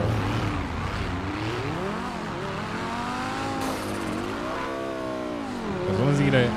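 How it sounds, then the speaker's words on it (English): A car engine in the GTA 5 roleplay game revs and drones continuously with rising and falling pitch sweeps, fairly loud and steady throughout, swelling near the end, with a little voice chatter mixed in. "That car sounds so good, though."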